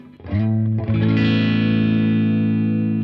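An electric guitar on its bridge pickup plays through a Blackstar TV-10 amp with the clean channel's gain pushed into mild overdrive: a couple of picked notes, then a loud sustained chord ringing out steadily for about two seconds.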